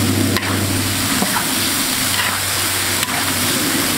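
Ingredients for a spicy pot dish stir-fried in a wok, a loud continuous sizzle and hiss with stirring scrapes and a steady low hum underneath, close and without talk.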